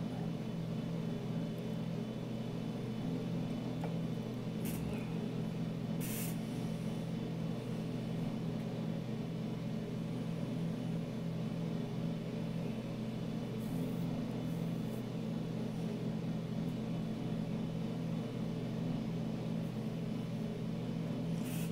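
A light aircraft flying between Atlanta Hartsfield-Jackson and Chattanooga Lovell gives a steady, unbroken engine drone inside the cabin for the whole stretch, with a constant low hum and no talk.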